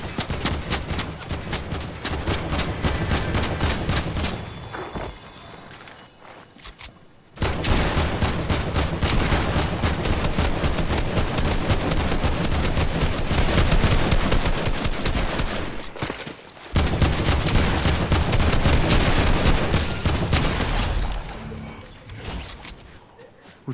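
Dense, loud bursts of rapid automatic gunfire in a Fortnite match pound almost without a break, with two short pauses between long volleys.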